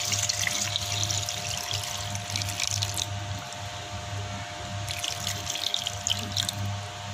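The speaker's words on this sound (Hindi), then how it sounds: "और यहाँ पे मैं ऐड कर रही हूँ पानी।" Water is poured into a pot of Hyderabadi-style chicken dum biryani, a steady close trickle and splash with brief brighter surges, with no talking.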